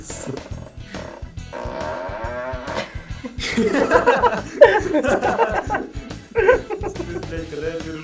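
A voice imitating a motor engine with rumbling, buzzing vocal noises over a repeating low thumping beat, with some laughter and other voices mixed in.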